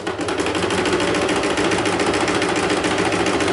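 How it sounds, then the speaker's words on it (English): A sewing machine stitches steadily through apron fabric, running straight over a pin without stopping; a continuous close, rapid mechanical whir with a fast even rhythm throughout, with no talk. "Watch it as we're sewing. We're not going to pull it out. We're just going to keep going."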